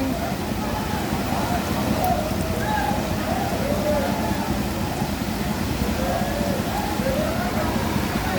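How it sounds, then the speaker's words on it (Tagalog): Steady flood rain pours down in a constant, dense hiss, with a faint engine rumble underneath. "Matigil na sana pang ulan."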